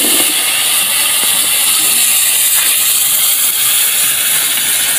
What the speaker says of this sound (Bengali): এখন আমি ওই মাছ ভাজার তেলেই আলু দিয়ে মাছ রান্না করব, তাই আলুগুলো ভেজে নেব